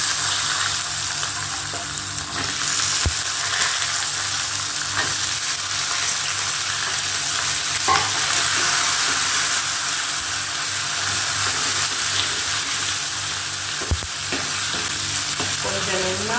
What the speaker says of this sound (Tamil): இப்போ வெங்காயத்தையும் பூண்டையும் போட்டு வதக்க போகிறோம்.